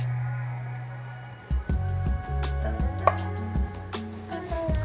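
Kitchen knife cutting pepperoncini peppers in half on a cutting board for an Italian antipasto chopped salad: a series of close, sharp cuts and board taps with irregular rhythm after a quiet start, no talking.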